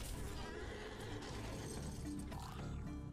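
A video game horse whinnies loudly amid dense clanking and ratcheting mechanical sounds.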